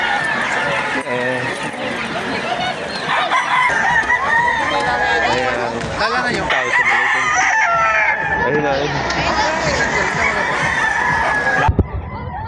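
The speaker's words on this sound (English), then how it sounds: "Ayan, ang daming chicken." Chickens and a rooster at an animal exhibit inside an expo hall, crowing and clucking close by over a steady crowd hubbub, with people talking throughout.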